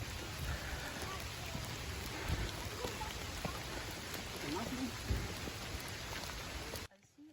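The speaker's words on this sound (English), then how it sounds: "It's just a little drizzle." Steady patter of a light drizzle falling outdoors on a park hike, a dense close hiss of fine drops with faint ticks, cutting off abruptly near the end.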